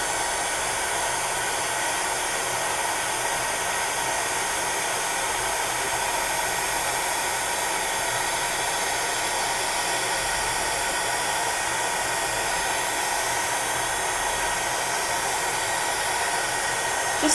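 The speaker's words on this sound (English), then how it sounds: "So here's the heat gun, and I'm just going to switch it on." Heat gun blowing steadily over polymer clay, a constant close-up hiss and whir of air that holds at an even level throughout with no talking.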